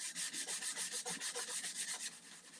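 A buffing pad rubs back and forth over a wooden dresser in steady, rhythmic strokes, a coarse scratchy swish repeating about ten times before easing off.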